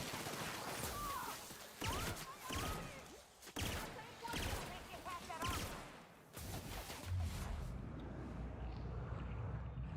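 Pistol gunfire in The Outer Worlds, a run of sharp shots in irregular bursts over game ambience and effects, loud and close, with a quieter tail near the end.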